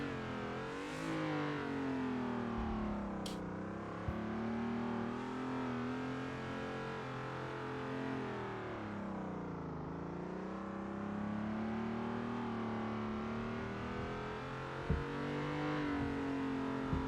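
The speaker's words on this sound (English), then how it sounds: "I need to do a cautionary lap here before we start attempting to drift it." Car engine in a drifting video game during a cautionary lap on an unfamiliar map: a steady droning engine note that rises and falls with throttle, heard alone with no talk.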